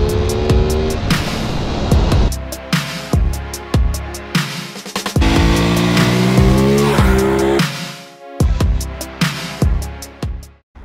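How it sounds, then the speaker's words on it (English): An Aprilia Tuono 660 motorcycle with its stock exhaust revs and accelerates loudly through repeated gear pulls, the engine note rising and dropping in sharp bursts with short pauses between. "When you start it up, you will feel like, what, this is an Euro 5? It's an Akrapovich? No, it's not. It's just the stock exhaust from the Aprilia."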